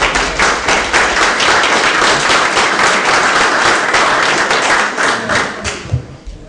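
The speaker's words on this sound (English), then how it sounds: "So if we could give one more round of applause" An audience applauds the panelists at the close of a community meeting on recycled water, a steady roomful of clapping that holds for several seconds before thinning out at the end.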